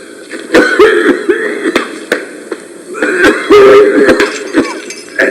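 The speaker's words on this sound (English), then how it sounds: "How long have you had that cough?" Several harsh, dry coughs break out in uneven bursts from a near speaker in a cavern setting, loud and up close, mixed with breathy gasps.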